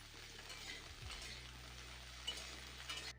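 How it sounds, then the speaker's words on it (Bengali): Cauliflower frying in hot oil with cumin seeds and dried chili, a soft steady sizzle with light stirring and an utensil clink or two, quiet and close. "আগে ফুলকপিগুলোকে তুলে দেব কেননা একটু ভাজতে সময় লাগবে ফুলকপিগুলো"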